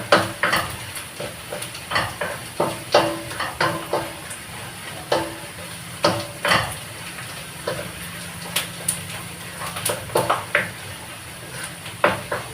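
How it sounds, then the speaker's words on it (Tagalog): Garlic and onion cook in a pan, making a steady frying hiss broken by frequent sharp clinks and scrapes from stirring, all close and fairly loud with no talking. "Lulutuin ko lang to, yung bawang at sibuyas."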